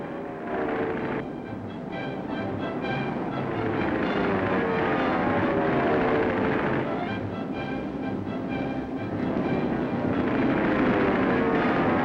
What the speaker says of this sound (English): Men training with bombers, with fighters, with pursuit planes.